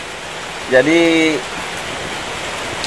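Steady rain hisses down around a vehicle workshop, a broad even wash of noise from start to finish, with someone speaking a few words briefly over it.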